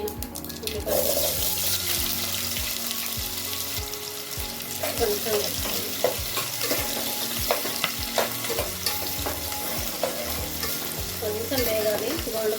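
Chopped onions fry in hot oil as a spoon stirs them, a dense close sizzle broken by repeated scraping and clinking strokes against the pan, loud and continuous, with a brief spoken word partway through.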